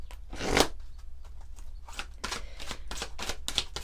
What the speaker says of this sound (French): On va prendre quelques cartes de l'oracle mystique de Marie-Madeleine.